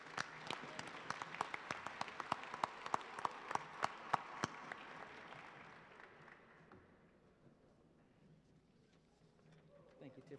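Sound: chapel audience applauding ROTC cadets

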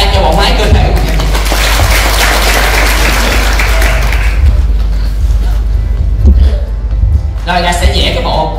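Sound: audience applause

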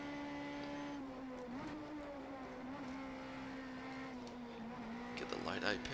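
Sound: car engine powering up the hill at Donington in rain

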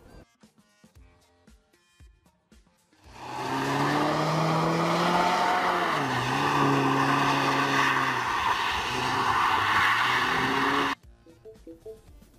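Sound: Mini Paceman car driving sounds

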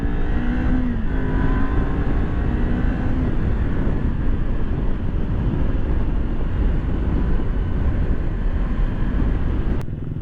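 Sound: Kawasaki Ninja 400 motorcycle test ride

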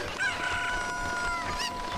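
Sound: rooster crowing in Zelda Ocarina of Time video game

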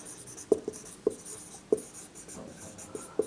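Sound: writing formula on board

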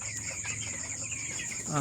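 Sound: broiler chickens clucking

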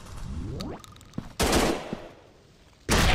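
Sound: gunfire from FPS video game Gun Strike Shooting 3D

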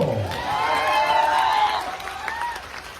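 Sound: audience applause at a speech

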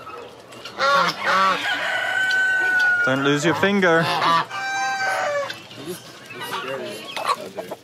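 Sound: geese honking at an animal rescue shelter

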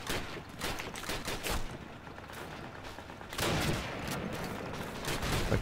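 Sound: gunfire in video game Call of Duty: United Offensive

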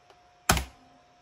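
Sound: computer keyboard enter key press

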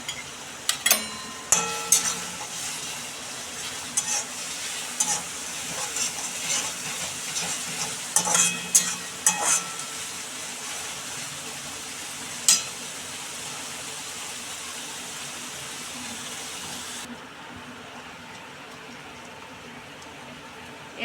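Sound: sautéing ginger-chili paste in a pan until golden brown

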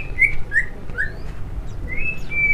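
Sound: white-rumped shama (murai batu) bird singing

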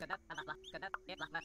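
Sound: chicken clucking in the video game Dinkum

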